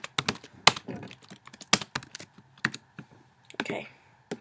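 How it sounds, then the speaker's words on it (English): Keys tapped on a computer keyboard in irregular bursts of sharp clicks and clacks, close and fairly quiet, with pauses between groups of strokes. "Now you can type whatever you want."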